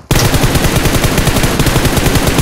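Rapid, continuous automatic gunfire from PUBG Mobile, loud and close, with dense overlapping shots filling the whole stretch without pause.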